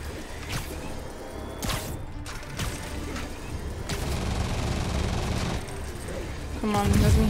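Enemy gunfire in Marvel's Spider-Man Remastered, scattered bursts of shots with sharp impacts over a busy game soundscape, growing denser and louder toward the end while a voice speaks over it.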